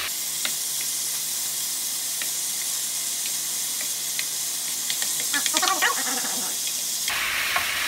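Chicken pieces sear in a hot pan for a green curry, giving a steady close sizzle with occasional stirring clicks and scrapes toward the end.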